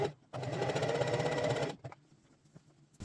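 A sewing machine stitches a LARP shield cover in one steady, fairly loud burst of about a second and a half, then stops, leaving quiet handling noises.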